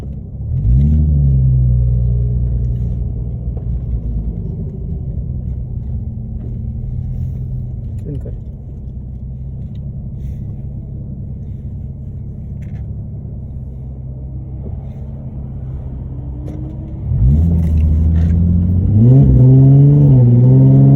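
A car engine revving gently at a car meet, a loud close low rumble that holds steady, then swells with a few rising revs near the end; no talk over it.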